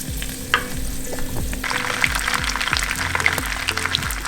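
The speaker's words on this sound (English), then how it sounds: "now our oil is nice and hot, and this is how we do this. Searing is a very fast process." Wahoo fish sears in hot oil, giving a continuous crackling sizzle that grows louder partway through, with a low repeating hum underneath.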